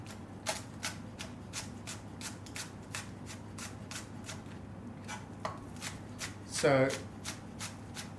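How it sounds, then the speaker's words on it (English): A knife finely shreds halved spring onions on a cutting board in a kitchen, making a fast, steady run of crisp close chops, with a brief voice near the end. "There's spring onions. I've just cleaned them, cut them in half, and I'm just going to finely shred them."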